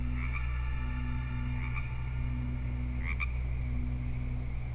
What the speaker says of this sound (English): I'm just enjoying the frog sounds.